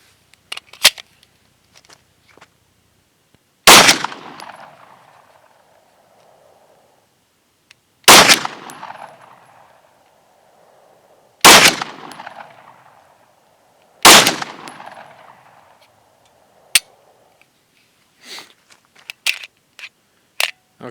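Handgun firing self-defense ammunition at a range: four loud, sharp shots spaced a few seconds apart, each with a decaying echo, plus a few fainter clicks and clacks of handling between them.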